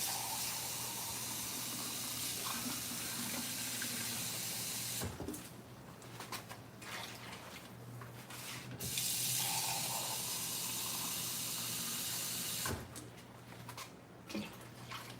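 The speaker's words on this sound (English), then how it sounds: "I think we're going to need more water in this other one" Water from a kitchen tap pours into a cooking pot in a steady rush, stopping briefly and then starting again, with faint room sounds in the gaps.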